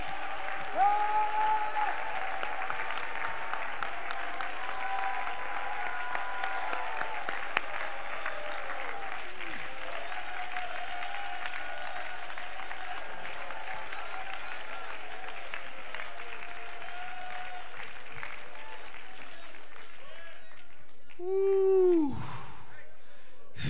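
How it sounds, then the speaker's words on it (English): Sustained applause from a congregation at a missions conference, a dense, steady wash of clapping lasting over twenty seconds, with a brief voice rising at the end. "would you clap your hands to the Lord? and will let your voice rise above the applause to the Lord God Most High"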